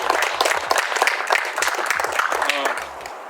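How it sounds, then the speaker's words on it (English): A small crowd claps for the solar grid team at a celebration of a tribal pool building's new solar installation, dense hand claps steady and close, with voices mixed in and fading toward the end. "So I think we can give applause for the grid team."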